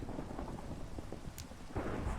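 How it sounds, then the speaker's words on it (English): Thunder rolling during rain in Minecraft, a low rumbling over a steady wash of rainfall, heard alone at moderate level with a swell near the end. "So you can hear thunder."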